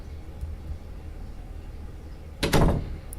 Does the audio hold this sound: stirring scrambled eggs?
no